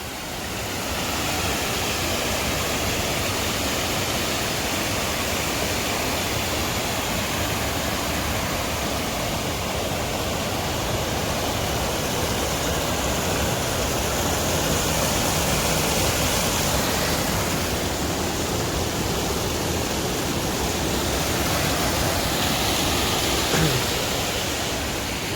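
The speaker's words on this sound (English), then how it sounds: "Apparently this is Little Indian Creek." Little Indian Creek in Dogwood Canyon Nature Park near Branson gives off a steady, dense rush of flowing water that stays loud and unbroken throughout, with no voices over it.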